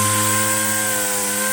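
Car headlight lens being sanded with 2,000 grit paper during a restoration, a steady, loud, continuous whirring with sustained tonal hum and no pauses, close up and without talk.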